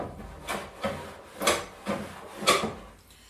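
Hand plane drawing fine shavings off a wooden workbench board, five or six separate rasping strokes in a steady rhythm, close and fairly quiet with no voices.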